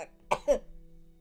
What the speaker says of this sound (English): we're going to wait until I stop coughing